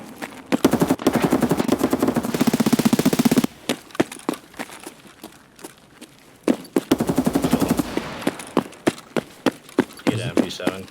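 Rapid gunfire in Escape from Tarkov, long fast bursts of automatic shots interrupted by brief pauses and ending in a few spaced single shots, loud and close, with a player talking at times.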